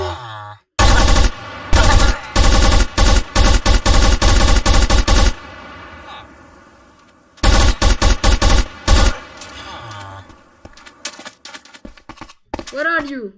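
Groza rifle gunfire in a video game comes in fast, loud automatic bursts, with a pause between two long strings and a few scattered shots near the end, with brief voice sounds.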